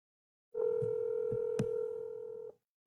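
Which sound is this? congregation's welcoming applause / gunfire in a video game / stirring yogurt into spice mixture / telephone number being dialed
telephone number being dialed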